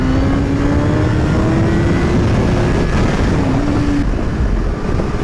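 A car engine drones loud and close, accelerating steadily with a rising whine that drops briefly as it shifts up into third gear, then keeps pulling under heavy road and wind noise.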